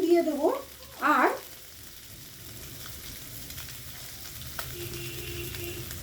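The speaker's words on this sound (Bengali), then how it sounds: "কুচো আর মাছটা আমি একসঙ্গে ভেজে নেব।" Small shrimp and fish frying together in a pan with salt, a steady low sizzle that follows a couple of brief louder bursts near the start, with no voices.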